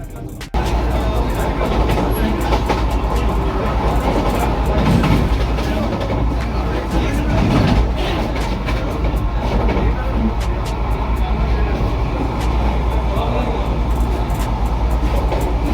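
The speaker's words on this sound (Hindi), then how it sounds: "तो अभी क्रॉस कर रहा है ऑपोजिट साइड से धौली एक्सप्रेस" Dhauli Express train passing on the opposite track, heard from aboard the Puri–Howrah Vande Bharat Express: a loud, continuous rushing rumble with rail clatter that starts abruptly and holds steady to the end.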